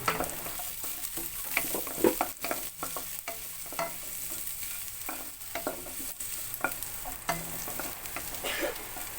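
Ginger, garlic and onion sautéing in a pan for a chicken soup, a soft steady sizzle broken by frequent stirring scrapes and taps of the spatula, close and without talk.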